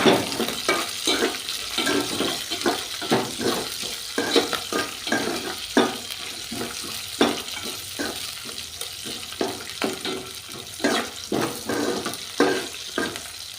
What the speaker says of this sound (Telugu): తర్వాత పచ్చిమిరకాయ ముక్కలు కొంచెం వేయాలి